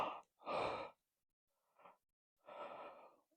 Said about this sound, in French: Désolée pour les bâillements